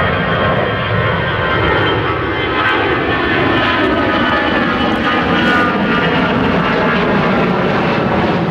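A Titan Airways Airbus A320 climbing out after takeoff gives a loud, continuous jet roar that holds steady and close throughout, with no voices over it.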